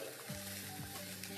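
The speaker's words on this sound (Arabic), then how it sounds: "نحط شوية من الزيت، مقادير الحشو هاي عندي البصل، إذا هني نحمر البصل" Onions sizzle in hot oil in a pan as the base for a stuffing. A soft, even frying hiss runs throughout, faint and with no talk.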